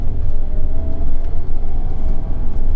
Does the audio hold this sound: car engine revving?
yes